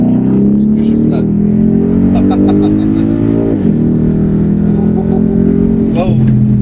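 Loud 5.0-litre car engine revving hard at full throttle and climbing steadily in pitch, a brief dip as it shifts, then pulling strongly again, with faint voices and clicks inside the cabin.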